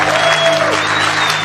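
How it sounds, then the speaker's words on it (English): An audience at a motivational talk applauds as a speaker is introduced on stage, a dense, loud wash of clapping that holds steady for the whole moment. "Let's get on your feet for the man, Keith Kalfas!"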